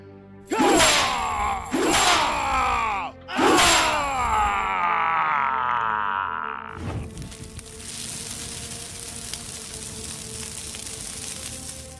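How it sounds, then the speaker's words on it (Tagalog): Three loud, rasping monstrous shrieks from an aswang in quick succession, each bending downward, followed by a lingering hissing, crackling rumble. "Sigaw ng aswang"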